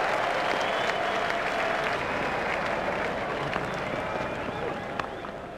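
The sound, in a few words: crowd applauding a four in a retro cricket video game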